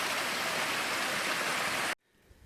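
Water running steadily at a trail water source near Watauga Lake, a loud, close broadband rush like a stream or spout that continues evenly and then cuts off abruptly near the end, leaving quiet outdoor ambience.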